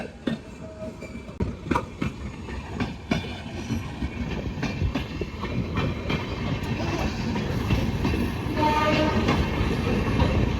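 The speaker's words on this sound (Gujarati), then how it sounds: "જો લાઈવ ટ્રેન આવી ગઈ છે" A train rumbles past at close range, with wheels clattering over the rails and the roar building steadily toward the end.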